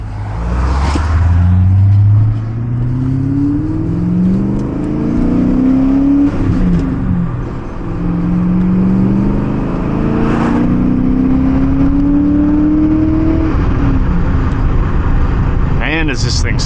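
BMW M5 with a 5.0L V8 and six-speed manual, clutch slipping, revs and pulls hard up through gears, loud and close with rising engine tones and brief dips between shifts; someone talks over it.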